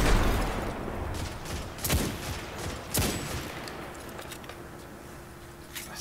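Pistol fire in the video game Destiny 2, several sharp shots and bursts over a dense layer of game noise, moderately loud.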